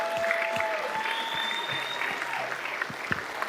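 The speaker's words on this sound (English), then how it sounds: "Ladies and gentlemen, big applause, Oleksandr Bezkorovainyi." Audience applause for the winner of a pool match, a steady wash of clapping heard somewhat distant and moderate in level, with a faint tone running beneath.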